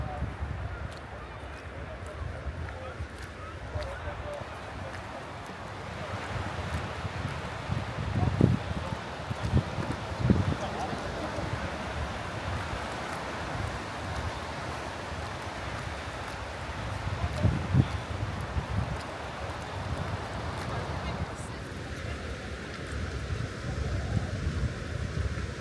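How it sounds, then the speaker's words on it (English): Strong wind gusts across a beach at Black Rock Sands in warm weather, a continuous buffeting roar on the microphone that swells in places, with people talking faintly underneath. "Can't believe how windy it is."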